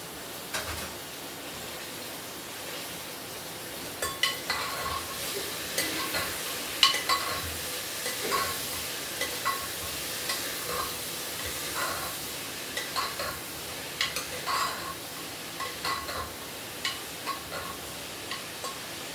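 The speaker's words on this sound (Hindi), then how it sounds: "अब उठ के बस सब्जी को तड़का लगाना" Vegetables being tempered, sizzling steadily in a hot pan, with scattered sharp pops and occasional clinks of a utensil stirring.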